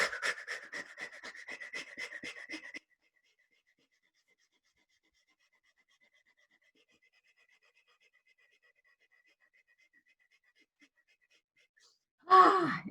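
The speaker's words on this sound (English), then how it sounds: "So that's fire breathing. It's in through the nose and then exhaling really rapidly." Rapid, rhythmic fire breathing, quick sharp exhales after breaths in through the nose, a fast run of close, loud pulses lasting a few seconds before long silence, then a brief burst of voice at the end.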